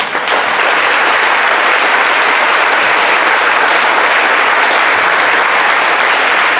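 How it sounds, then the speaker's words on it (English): A large audience at a county athletic banquet claps for the coaches, a loud, dense, sustained wash of applause that holds steady for several seconds with no speech over it. "Let's give the coaches a round of applause."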